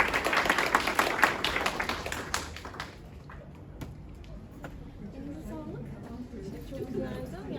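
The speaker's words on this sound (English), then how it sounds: "can we just give one last round of applause to Merve Çetinkaya, please, for all her." Audience applause closing an academic seminar, dense clapping for about three seconds that fades out, followed by murmuring and talk in the room.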